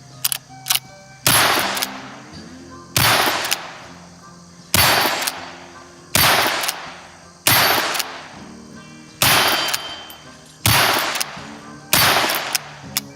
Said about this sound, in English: I've got it loaded up here, so let's turn around and put some rounds downrange.